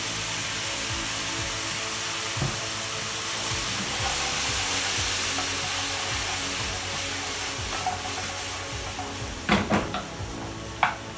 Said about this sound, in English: Now we're going to add our tomatoes.